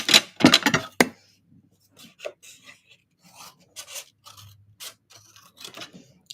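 Scissors snip through craft material in a quick burst of three or four rasping cuts up front, followed by quieter scattered handling and rustling noises.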